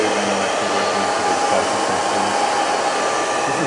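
A hair dryer blows steadily on hair, mixed with a comb during drying, holding one even, loud whoosh throughout with no talk.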